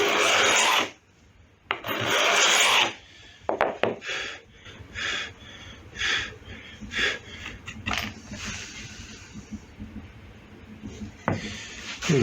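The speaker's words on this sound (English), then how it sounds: "you have to give it about twice as many passes as you would normally give it with a file" Metal file rasping across stainless steel guitar frets, with two long strokes early, then a run of shorter, rhythmic passes and scrapes, close and fairly loud, with no talking.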